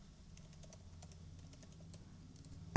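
Quick light keystrokes on a computer keyboard, a faint scattered clicking over low room hum, ending in a sudden louder burst.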